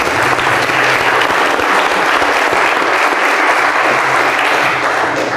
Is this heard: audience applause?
yes